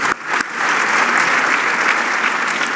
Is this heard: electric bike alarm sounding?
no